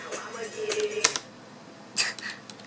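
A few soft clicks and clacks of CM Storm QFR keyboard keys, including the spacebar, being pressed, close by, over a faint background hiss.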